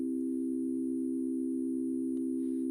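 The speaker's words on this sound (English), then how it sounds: "Gives us that almost an organ sound." A steady organ-like FM synthesis tone from Ableton Operator holds unbroken and even, a sustained pure-sounding pitch with a faint pulsing low end and no voices over it.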